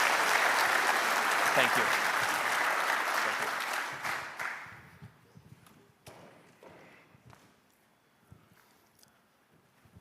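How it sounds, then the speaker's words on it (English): A conference audience claps heartily for an award winner for a few seconds, then the applause fades into scattered claps and room noise as a voice briefly speaks. "So let's give Tiffany a huge round of applause"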